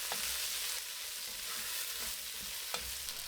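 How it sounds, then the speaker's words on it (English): Chilies, thyme and ground spices are stirred as they fry in a pan over medium heat, a constant soft hiss with occasional light scrapes and taps, quiet and steady. "Turn to medium heat and stir for 1 minute."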